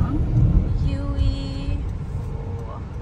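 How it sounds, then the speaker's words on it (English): Car speeding past on a street in Sawang Daen Din, Thailand, a loud close rumble that swells early and fades, with people talking nearby. "This car is driving so fast."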